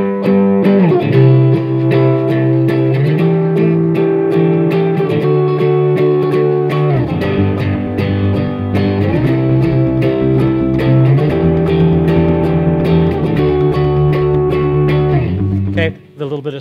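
An electric guitar played through a little distortion for added grit, sustained chords ringing loud and close with occasional changes, ending in a brief scrape and cutoff.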